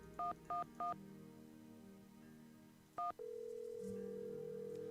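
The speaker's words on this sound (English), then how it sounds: "just randomly put in some phone numbers, Tristan" Keypad dialing tones in the video game Nancy Drew: Secret of the Scarlet Hand: three quick touch-tone beeps, a pause, then one more beep followed by a steady continuous tone.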